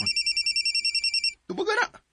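A mobile phone rings in a rapid, repeating electronic trill of evenly spaced pulses, loud and close, then stops as a voice briefly speaks.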